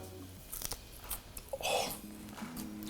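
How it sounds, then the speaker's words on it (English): Crispy air-fried potato fries being bitten and chewed, a few sharp crunches close to the mic with short pauses between bites, no talking. "Look at those, nice and crispy. Let's see, let's hear for the crunch."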